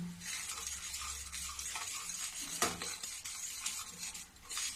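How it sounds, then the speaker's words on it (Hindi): A spoon stirs coarsely ground masala into a sweet-and-sour carrot, cauliflower and turnip pickle, with soft scraping and occasional metal clinks against the pan, close, quiet and without talk. "अब इसको भी मैं मिलाऊंगी"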